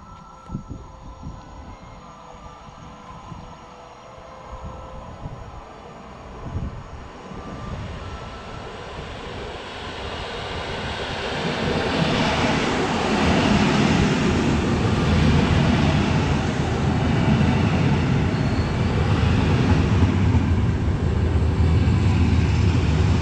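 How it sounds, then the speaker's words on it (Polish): A train rumbles closer at Warka Miasto railway station in Poland, its broad roar building and staying loud and steady through the second half, with no voices. "No nie uwierzycie, mamy szczęście, właśnie jedzie pociąg."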